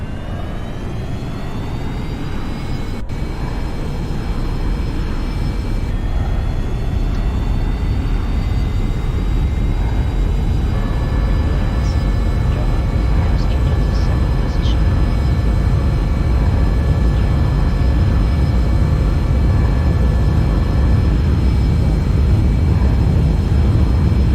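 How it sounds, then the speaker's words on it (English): Airplane engine in the X-Plane 11 flight simulator, a steady loud roar with rising whining tones as the throttle is pushed up, continuous throughout with no talking. "Let's release the parking brake by pressing B and moving some throttle."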